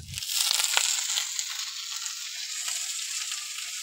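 Korai shaak greens dropped into a pan of cooked onion, an initial crunchy rustle and thump giving way to a steady, moderately loud sizzle that continues alone.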